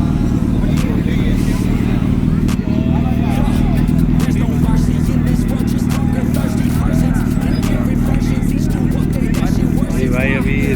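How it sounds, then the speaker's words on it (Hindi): Hayabusa motorcycle engine revving loudly on a Mount Abu ride, a dense steady roar with repeated throttle blips, under a babble of crowd voices and speech. "यहाँ पे हमारा फ्रेंड ये बाइक रेव कर रहा है"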